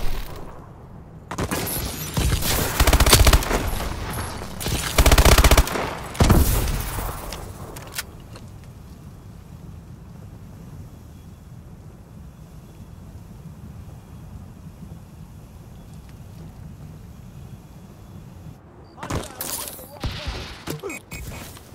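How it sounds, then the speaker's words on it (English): Remote turret gunfire in Call of Duty: Advanced Warfare, heavy bursts of loud firing in the first seconds, then a quieter stretch of low rumble and wind-like noise before a short final burst near the end. "Remote turret ready."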